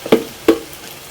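Garlic going into a pan with tomato cooking, giving two short sizzling bursts a few tenths of a second apart before a quiet, low simmer.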